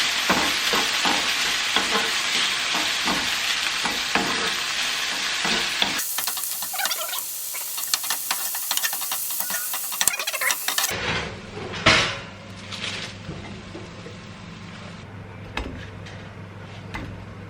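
Chicken and bacon fry in a pan with a spice blend for a Caesar-style salad, giving loud continuous sizzling with stirring scrapes that change character partway through, with no talking.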